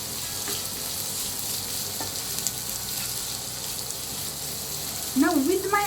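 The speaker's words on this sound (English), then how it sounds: "I'm going to add in almost 3 onions. I've chopped them finely and I'm going to saute this well." Finely chopped onions, almost three of them, sautéing in a pan for a dry potato sabji, with a steady close sizzle and light stirring, and a brief voice-like tone near the end.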